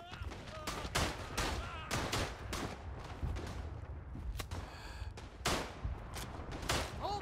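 Rifle shots crack out in the World War I shooter Verdun, several sharp, separated reports scattered across a few seconds amid battlefield noise, with faint voices underneath.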